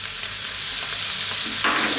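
Sausages fry in a hot pan as they are stirred, a dense, loud, continuous sizzle with scraping movement, growing brighter toward the end.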